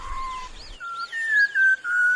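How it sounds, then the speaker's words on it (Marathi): Melodic whistled song of a whistling thrush drifting up from a deep Sahyadri valley, a few rising and falling pure notes and sustained tones in a loose phrase, clear and fairly close, with no talk. "सह्याद्रीच्या खोल दरीतून शीळ कस्तुराची सुरेल शीळ कानावर पडते आहे."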